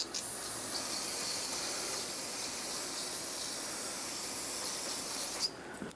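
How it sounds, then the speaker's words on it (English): A steady, loud spray of brake parts cleaner aerosol hisses continuously for several seconds onto the back of a brake caliper, then cuts off near the end. "I like to spray this area with brake parts cleaner"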